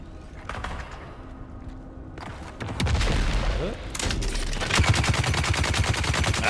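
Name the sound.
grenade explosions and gunfire in video game Dune: Awakening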